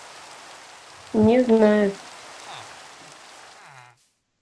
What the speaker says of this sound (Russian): сразу же идет дождь